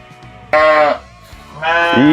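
Sheep bleat loudly in two long, wavering calls at a sheep cheese dairy during milking, close by over a low background hum.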